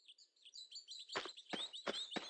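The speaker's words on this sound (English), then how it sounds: "The chirping of birds is nice for a while," Birds in the Venice level of the video game Tomb Raider 2 chirp repeatedly: high tweets at first, then several sharper, louder calls in quick succession, heard clearly with no talking.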